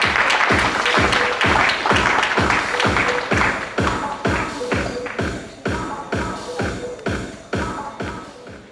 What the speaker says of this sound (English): Please give a round of applause to Dr. Bhuti Patel.